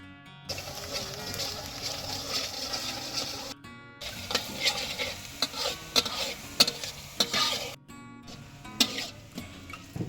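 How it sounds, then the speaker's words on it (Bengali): Onions frying in hot oil in a kadai for garlic mutton, a steady close sizzle with stirring scrapes and clinks of a spoon against the pan, continuing with brief pauses. "তেল গরম হয়ে গেছে, এবার পেঁয়াজগুলো বেরেস্তা করে নেব।"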